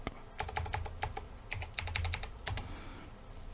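Quick bursts of keystrokes on a computer keyboard, crisp and close, come in short irregular runs with brief pauses between them, then a softer tail of a few scattered taps.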